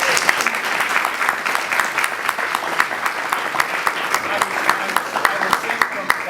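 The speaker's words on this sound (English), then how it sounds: "I think you should clap for them" A church celebration crowd claps for visiting members of a chapel congregation, with steady applause and a few sharper close claps standing out, while a voice speaks faintly underneath.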